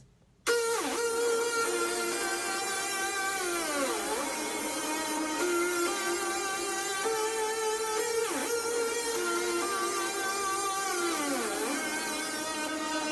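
A sustained synth lead holds bright, buzzy tones with slow pitch bends and swoops, playing alone at moderate volume.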